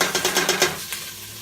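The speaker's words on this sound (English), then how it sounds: "So in my pot, I'm going to add some butter." Butter melting in a pot for crispy rice treats, heard as a soft rhythmic series of stirring scrapes and faint sizzle close by, fading out after about a second with no talk.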